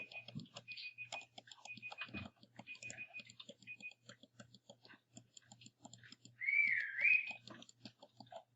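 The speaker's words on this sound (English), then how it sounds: "I heard a whistle." A sharp, rising whistle sounds once near the end, over a steady run of soft ticking and tapping clicks.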